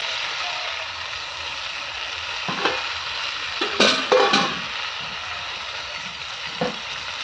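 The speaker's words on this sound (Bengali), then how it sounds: "এবার আমি জল দিয়ে দিচ্ছি।" A potato and spice masala sizzles with a steady hiss as water goes into the pot, with a few clinks and scrapes from a utensil midway.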